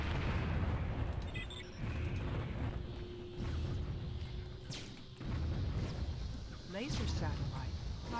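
Laser satellite firing in the Warzone strategy game, a heavy rumbling blast with sweeping whooshes and booms over dense battle noise, while a spoken announcement plays.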